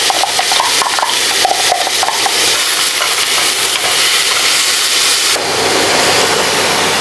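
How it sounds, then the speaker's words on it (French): Onions tipped into hot olive oil for aubergine parmigiana give a loud, dense, continuous sizzle up close, with a brief shift in texture near the end as the frying settles. "tu remets un peu d'huile d'olive et tu verses les oignons"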